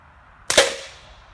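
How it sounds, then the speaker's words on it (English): A single sharp crack from a rifle firing a .22 subsonic round into an airplane frame, close and loud, followed by a short decaying ring. "This should be the last shot."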